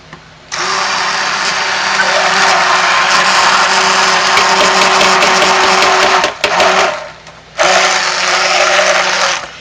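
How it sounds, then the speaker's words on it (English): A stick blender whirs steadily while mixing homemade lye soap in a crock pot, held upright. It runs loud and continuous for several seconds, cuts out briefly, then starts again. "I can't put my stick blender at an angle or it'll spurt out on me"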